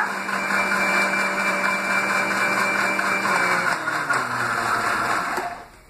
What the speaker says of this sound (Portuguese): quem tiver um liquidificador mais lento, deixa batendo por pelo menos 5 minutos